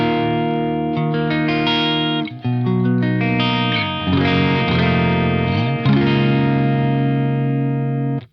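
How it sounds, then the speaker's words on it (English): Electric guitar played through a Victory VX100 amp on its push clean channel, sustained chords and picked notes ringing loud and continuous with a slightly driven edge, changing chord every second or two. "And now this is the push clean."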